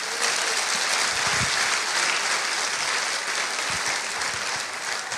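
A congregation applauds at a pastors' retreat church service, dense steady clapping that fills the room throughout, loud and continuous, with a few low thumps and a faint voice underneath.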